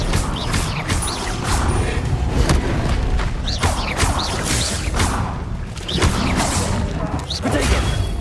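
Spell combat in Hogwarts Legacy with Expelliarmus being cast: a steady, loud barrage of booms, thuds and whooshing impacts, repeated sharp hits landing every second or so over a rumbling fight background.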